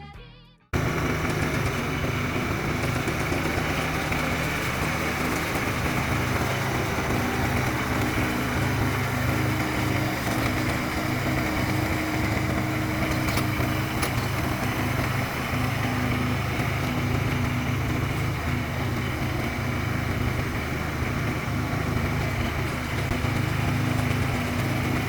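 A homemade engine-powered hedge trimmer starts up and runs continuously, a loud, steady, buzzing small-engine drone with a mechanical rattle that holds nearly unchanged throughout, without any talking.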